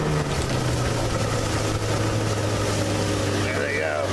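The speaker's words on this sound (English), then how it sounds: "the skiff boat. Cruising." A skiff motorboat cruising on open water, its outboard engine giving a steady, loud droning hum with water rushing past, constant throughout, while people talk over it.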